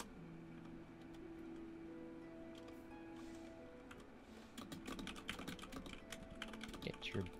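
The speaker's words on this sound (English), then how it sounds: "Panic typing." Rapid, busy typing on a computer keyboard, clicks dense and irregular, growing louder and more clustered in the second half over a steady background of game music and ambience.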